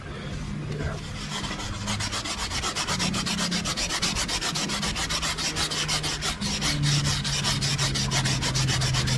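Fine-grit sandpaper wet-sanding a scratch in a motorcycle's clear-coated paint with soapy water, a close, continuous rhythmic rubbing that holds steady throughout with no voices.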